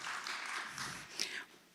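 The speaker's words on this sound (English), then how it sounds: "That warrants an applause." Brief, fairly faint applause from a small audience at a county public meeting, a soft scattered clapping that swells slightly then tapers off within two seconds.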